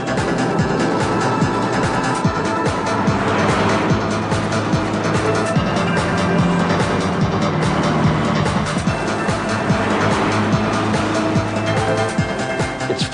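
Two race cars, a black one and a red one, run together on a track, their engines droning loudly and steadily with swelling passes and occasional tire squeal throughout, close and continuous with no talk.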